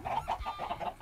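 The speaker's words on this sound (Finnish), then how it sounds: "Täällä on kanoja." Chickens in a video game cluck in a quick repeated series of short, bright calls, moderately loud and close, with no talking.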